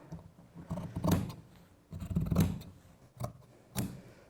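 Scissors trim the seam allowance on garment fabric while the lining and outer shell are joined, giving several separate bursts of close snipping with quiet pauses between them.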